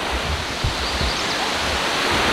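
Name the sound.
little river flowing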